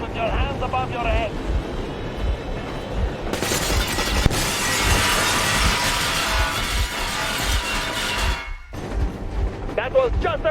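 Warning gunfire in the video game Metro Exodus: a loud, sustained burst of noisy blasts with one sharp crack, cutting off abruptly. Voices are heard before and after it.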